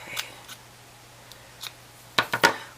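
Scissors trimming a ribbon bow on a gift box, a few scattered soft snips followed by a quick cluster of three sharper cuts near the end, close and isolated.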